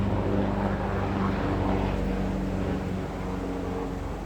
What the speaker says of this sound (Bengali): প্লেনের শব্দ শোনা যান না কিছু, হেলিকপ্টার